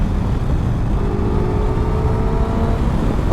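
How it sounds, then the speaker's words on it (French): A Suzuki GSX 1000 GX motorcycle on the motorway pulls a short, steady burst of acceleration, a loud, continuous engine drone with rising harmonic tones and heavy wind rumble. "si jamais j'accélère, je vais te montrer juste un petit coup"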